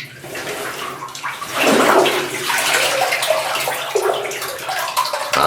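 Water rushing through a flooded mine, a loud continuous gushing and splashing that swells after the first second and stays strong, close to the listener.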